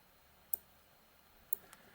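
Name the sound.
computer mouse clicking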